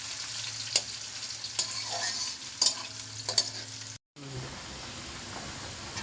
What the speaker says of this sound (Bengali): শুকনো মরিচটা একটু সুন্দর করে ভাইজা নিলাম রসুন রসুন দিছি বেশি